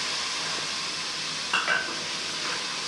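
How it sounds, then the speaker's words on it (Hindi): Spices are tipped into garlic and ginger frying in oil for a cauliflower and potato dish, giving a steady, close sizzle with a brief scrape and clatter of a spoon against the pan midway. "लहसुन अदरक हमारा भून चुका है, अब हम इनमें डाल देंगे मसाले।"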